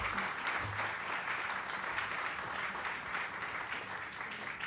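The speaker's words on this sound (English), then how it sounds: "thank you for this applause" Audience applause during a talk, a steady, dense wash of clapping that holds at an even level throughout, with faint background voices underneath.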